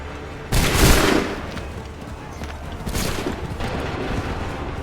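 A loud musket volley bursts close by in a battle in Assassin's Creed 3, followed by scattered, rolling shots and a second ragged burst under a continuous din.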